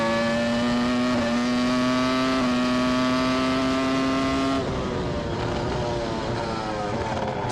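A 2006 Red Bull Formula 1 car corners at the British Grand Prix qualifying with its rear wing angle reduced for oversteer. The engine screams at a steady high pitch, then drops sharply as the car comes off the throttle.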